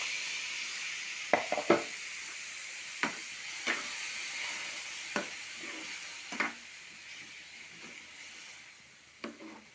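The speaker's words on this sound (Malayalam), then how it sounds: "നമുക്ക് ആ വഴറ്റിയതിനായിട്ട് ആ തേങ്ങ ഒഴിച്ച് കൊടുക്കാം" Grated coconut goes into a pan of sautéed sambar cheera greens for erissery, over a steady sizzle and hiss, with a few sharp scrapes and taps scattered through.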